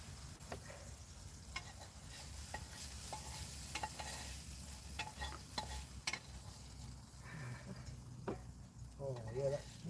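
Onions frying in a pan on a home stove, a quiet continuous sizzle with occasional utensil taps and faint background murmur.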